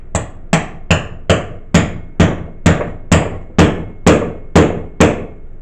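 Hammer striking a chisel to break a tire bead away from the wheel rim, about a dozen sharp metallic blows at a steady, slightly quickening pace, close and loud with no talking.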